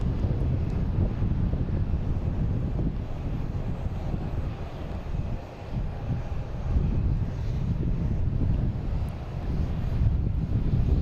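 A Delta Embraer E175 airliner at Boston Logan International Airport, a steady, moderately loud low roar of jet engines blended with wind, continuous and without talk.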